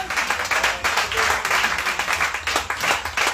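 A church congregation claps to acclaim the Lord Jesus Christ, a lively, continuous burst of many hands clapping at close range, with scattered voices mixed in.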